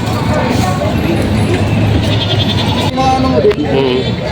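Goats bleat repeatedly amid a noisy crowd at a livestock market in Padre Garcia, Batangas, with people talking over a busy, loud background.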